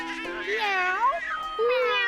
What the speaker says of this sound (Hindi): अच्छा, बिल्ली।